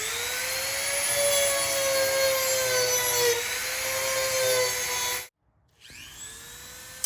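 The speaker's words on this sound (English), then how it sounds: "That's where a sanding disc on the Dremel tool would be ideal." A Dremel rotary tool with a sanding disc whines at high speed while sanding, a steady close grinding hum that cuts off abruptly, then spins back up briefly.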